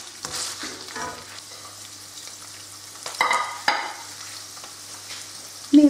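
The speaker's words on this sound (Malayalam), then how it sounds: "ഇതൊരു 5-6 മിനിറ്റോളം ഒന്ന് ഇളക്കി കൊടുത്ത് നമുക്കൊന്ന് വേവിച്ചെടുക്കാം." Around 300 to 350 grams of chicken breast is stir-fried in a pan for a chicken noodle stir fry, with close sizzling and several distinct scraping stirs. A louder clatter comes near the end, and there is no speech.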